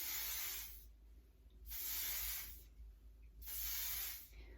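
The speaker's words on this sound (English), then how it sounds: "I'm just gonna spray it" Three bursts of hairspray hiss from an aerosol can, each about a second long, separated by short quiet pauses, close up.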